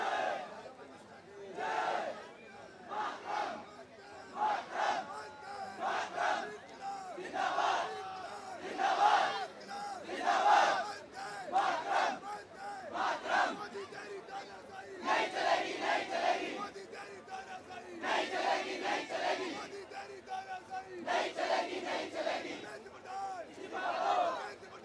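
At night at Jantar Mantar, a crowd of protesting students chants and cheers in repeated rhythmic bursts of shouted voices, heard from a moderate distance and rising and falling across the clip.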